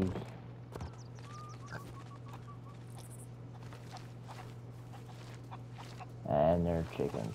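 Chickens clucking in the pirate video game Sea of Thieves, a few faint scattered clucks over a low steady game hum, with a louder burst near the end.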